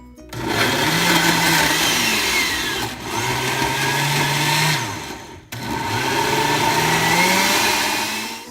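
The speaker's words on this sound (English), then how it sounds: "Put the lid on the blender and blend." A blender blending blueberries and banana into a smoothie whirs loudly in three long bursts, its motor pitch rising and holding steady, with brief pauses between runs.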